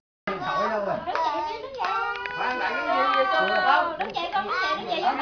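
At a Vietnamese second birthday party, a small child claps hands in a quick run of light claps close by, while adults and children talk and call out over it throughout.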